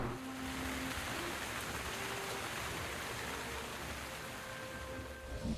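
Steady, dense rain in a video game hisses continuously at an even level, with faint low rumbling underneath and no voices.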